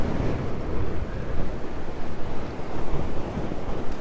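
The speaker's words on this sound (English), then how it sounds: "That wind is, it's definitely gone more westerly now too, which is not good." Strong westerly wind buffeting a microphone at the Currumbin seashore, with surf rolling underneath; a continuous loud, gusty roar that swells and dips without a break, and no voices.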